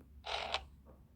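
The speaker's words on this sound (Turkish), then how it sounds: "Ben kapıyı açıp çıkayım." A door creaks open in the Toca Boca video game, one short scraping creak with a brief click at its end, then a fainter trailing squeak, alone and fairly quiet.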